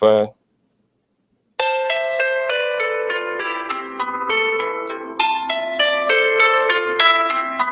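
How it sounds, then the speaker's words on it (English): Title-screen music plays from a video game app on a phone, a bright, bouncy melody of quick, bell-like tones. It starts after a brief spoken word and a pause, then carries on steadily and clearly. "So that's the title page music."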